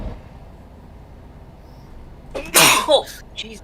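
A loud sneeze bursts out over faint background hum from an Euro Truck Simulator 2 convoy session, followed a moment later by a smaller second burst.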